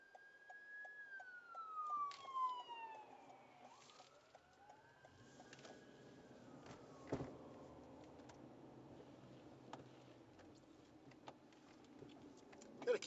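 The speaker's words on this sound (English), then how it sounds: "we've got an ambulance coming by." An ambulance siren passes while a car waits on a town road in Orangeville, its wailing tone sweeping up and down and fading as it goes by, over quiet vehicle interior noise and faint ticking.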